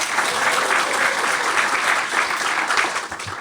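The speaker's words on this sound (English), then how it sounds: "Please, warm round of applause for my guest co-host," Live podcast audience in Santa Monica applauding a guest co-host: dense, steady clapping that fills the room throughout and tapers off at the very end.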